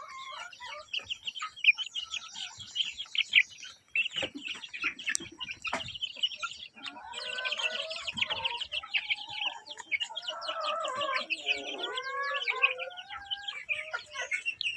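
Free-range chickens cluck, chirp and call continuously, close and fairly loud, while being fed fermented leaves outdoors; no one speaks.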